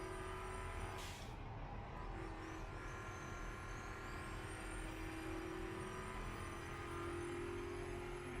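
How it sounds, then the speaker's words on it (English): A V8 turbo race car engine in the Automation sandbox racing game holds a steady, sustained drone at a very low level, with a short whooshing burst near the start. "V8 turbo does sound rather cool though."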